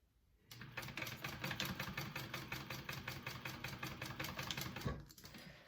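Sewing machine running steadily and close by as it stitches a 3/8 inch seam on a Finch hobo bag, a continuous rapid needle rhythm lasting several seconds before stopping.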